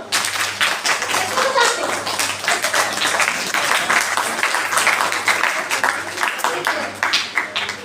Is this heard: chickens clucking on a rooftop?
no